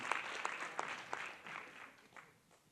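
Audience at a neighbourhood council meeting in Bordeaux Sud gives a short, fairly quiet round of applause, scattered claps that thin out and fade over a few seconds.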